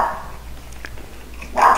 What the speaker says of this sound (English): My dogs are just barking away.